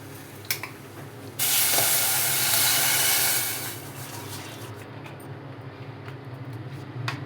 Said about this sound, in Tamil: வெல்லம் போட்டுக்கிட்டு அது முழுகிற அளவு தண்ணி ஊற்றிக்கலாம்.